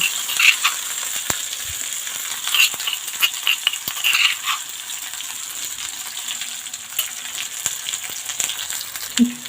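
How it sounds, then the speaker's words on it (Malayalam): Crushed shallots, garlic, ginger and curry leaves fry in oil after mustard seeds for rasam, a bright close sizzle with bursts of crackling and occasional spoon taps, no voices present. "ഇനി നമുക്ക് ഇതിലേക്ക് കടുക് പൊട്ടിയതിന് ശേഷം നമുക്ക് ചതച്ച് വെച്ചിരിക്കുന്ന ഈ ചുവന്നുള്ളിയും വെളുത്തുള്ളിയും ഇഞ്ചിയും കറിവേപ്പിലയും എല്ലാം കൂടെ ഇതിലേക്ക് ഇട്ട് കൊടുക്കാം"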